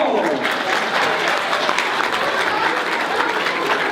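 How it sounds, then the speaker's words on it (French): Audience applause for a two-time world champion football freestyler at a live show: dense, loud, sustained clapping from a crowd, with voices faintly mixed in. "Sienne Garnier, mesdames, messieurs, applaudissements."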